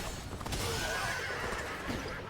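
Horses whinny in Dynasty Warriors: Origins over a dense, noisy battlefield background of hoofbeats and commotion, the neighs rising and falling briefly.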